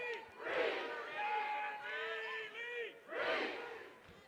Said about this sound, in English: Crowd cheering on Gabby Leach